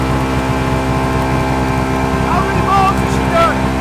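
A loud BMW E36 car engine running roughly and unevenly, choking with the engine light on, a steady droning hum with sputtering irregularities and a brief surge near the end.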